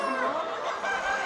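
Golden-coloured classic hybrid laying hens and roosters cluck and chatter together on a commercial egg farm, a dense, steady flock noise at moderate level throughout.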